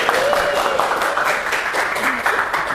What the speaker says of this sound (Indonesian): Iya, tepuk tangan untuk kelompok 2.